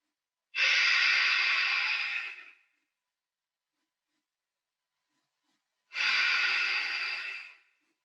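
Two long, deep breaths during a guided relaxation, each a soft broadband rush lasting about two seconds, separated by several seconds of silence, close and clear with no talking.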